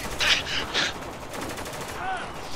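Heavy gunfire in Spec Ops: The Line, a few sharp bright shots early on, then a continuous rumbling battle bed with faint whistling sounds, under a voice.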